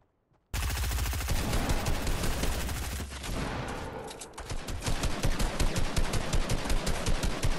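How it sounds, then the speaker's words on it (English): Gunfire in a shooter video game sounds loud and close in dense, rapid volleys that run almost without pause, with a heavy burst followed by steady repeated shots. "Somebody's shooting across at us."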